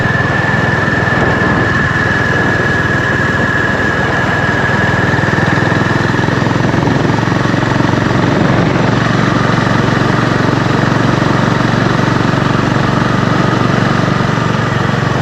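A Honda GB350 motorcycle engine hums steadily while cruising around 60 km/h on rural country roads, a continuous close drone with wind noise and a faint high whine, no talking.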